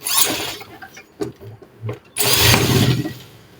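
A sewing machine stitches a strip of fabric onto a men's qameez, running in a loud burst, pausing through a stretch of softer handling noises, then running again steadily to the end.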